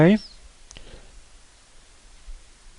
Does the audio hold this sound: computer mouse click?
yes